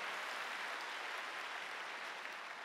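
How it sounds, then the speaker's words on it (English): A church congregation claps together during a sermon, producing a steady, dense wash of applause that sounds fairly distant and even throughout. "Come on and clap your hands."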